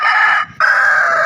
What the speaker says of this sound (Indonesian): Ini ayam Filipina teman-teman